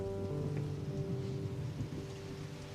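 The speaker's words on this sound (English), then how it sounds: "God heard them, for the heavens opened and the rain came." Quiet, steady rainfall hisses in the background, a soft continuous patter with a low rumble beneath it.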